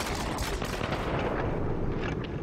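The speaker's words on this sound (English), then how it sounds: "Let's see how well I do with this combat rifle for a while." Rapid combat rifle gunfire in a video game, a dense continuous burst of shots that fills the whole stretch at steady loudness, with no talk over it.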